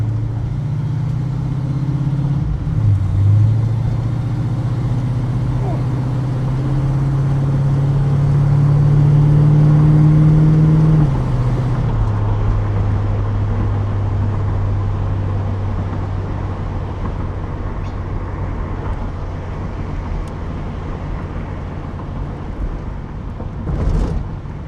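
An LS-swapped 1986 Monte Carlo SS cruising at night, a steady low engine drone from inside the car that builds slightly as it accelerates, then settles into an even rumble with road noise.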